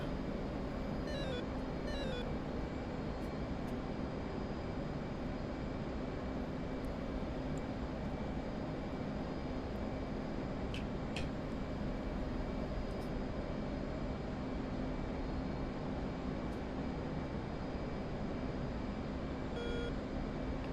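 An F/A-18C jet engine roars in flight in a multiplayer flight-simulator game, a steady, loud drone that never lets up. A few faint cockpit beeps and chirps sound briefly over it.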